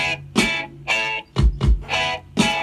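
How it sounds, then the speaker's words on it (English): Guitar intro played dry with no reverb, bright chords struck in short separate bursts with gaps between, close and fairly loud, no voices. "here's the intro without any reverb on it"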